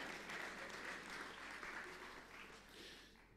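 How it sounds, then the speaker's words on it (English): A school audience at St Mary's Upton applauds a volunteer during a magic show. The clapping is dense and steady, then gradually thins and softens toward the end, with faint crowd noise and no clear speech. "Let's give Bex a big round of applause, ladies and gentlemen."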